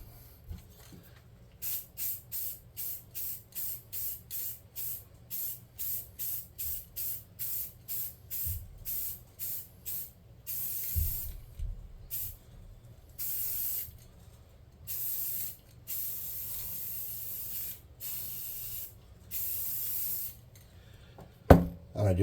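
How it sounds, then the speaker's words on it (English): Spray can painting a scratch-built scrap model for tabletop gaming, dozens of short rhythmic hissing bursts close up, followed by longer sprays and pauses. "hit it with spray can."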